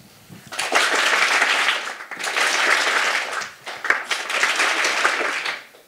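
A science slam audience in Freiburg claps in several bursts, fairly close and lively, with short dips between waves of applause.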